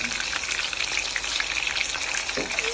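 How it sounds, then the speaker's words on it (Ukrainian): Kolduny, potato and semolina dumplings, fry in a covered pan with a steady, close, dense sizzle and crackle that runs the whole way through without any talking. "Жаримо їх під закритою кришечкою."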